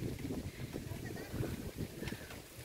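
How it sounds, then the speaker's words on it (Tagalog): Gusty wind buffets the microphone with low rumbling bursts, close and constant, while a voice is faintly heard underneath. "grabe yung lakas ng hangin"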